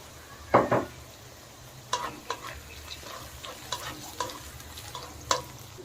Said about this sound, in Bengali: পেঁয়াজের সাথেই ক্যাপসিকাম কুচি ভালো করে ভেজে নেব।